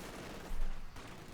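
Heavy machine gun fire from the strategy game Company of Heroes 2, a dense burst of rapid gunfire with a swell of louder shots in the middle, busy and continuous with no talk.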